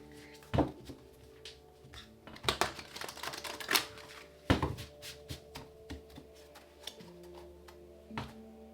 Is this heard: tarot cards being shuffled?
yes